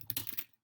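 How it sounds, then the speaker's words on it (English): A few quick keystrokes on a computer keyboard, close and fairly soft, several taps in a short burst before falling silent. "This is how I would type it here on the screen."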